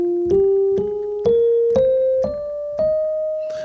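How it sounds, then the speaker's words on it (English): A single voice sings the E flat major scale upward, seven steady sustained notes of even length rising step by step, alone and close with no accompaniment. "the E flat major scale sounds like this"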